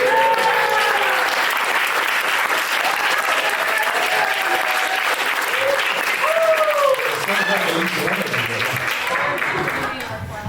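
At an evening readings event, a crowd breaks into sustained, full applause, loud and even, while whoops and a few voices call out over the clapping before it tapers slightly at the end.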